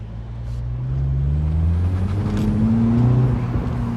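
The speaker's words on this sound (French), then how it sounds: "la voiture marche correctement. Elle fait un bruit plutôt agréable et ces 170 chevaux ils sont là" A 170-horsepower Mini Cooper S cabriolet engine hums and rises in pitch while driving, a close, steady drone climbing gently as the car accelerates, without speech.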